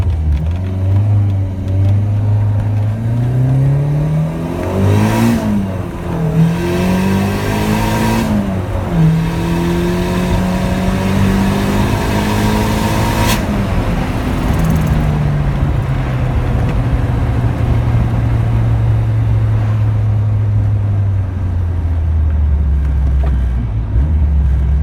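A Callaway turbocharged 1.8-litre VW Rabbit, over 30 years old, pulling hard through first and second gear, its engine note climbing loudly, dropping at the shift, then rising again before settling into a steady drone, close and continuous.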